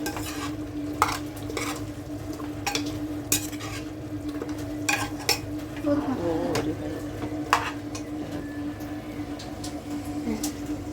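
A spoon repeatedly scrapes and clinks against a pot of salted chicken biryani curry, steady stirring over a constant low sizzle and background hum, close and continuous, no talk.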